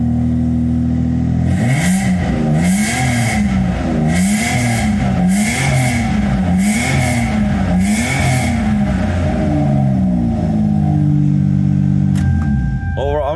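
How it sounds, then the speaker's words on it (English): Lexus SC300 straight-six with a Flowmaster exhaust, 302,000 miles on it, revved repeatedly in about six rhythmic surges over a steady idle, loud and close, with a final blip near the end. "Let me go ahead and rev it up for you guys."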